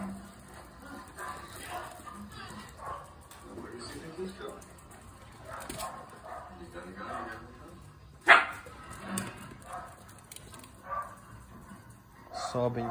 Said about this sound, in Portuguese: o cachorro latiu lá no fundo